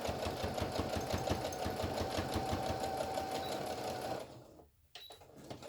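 A sewing machine runs steadily, whirring and rattling as it stitches forward and backward along a fabric face mask seam, close and continuous before stopping near the end.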